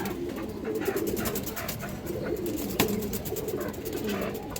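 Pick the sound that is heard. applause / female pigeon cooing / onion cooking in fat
female pigeon cooing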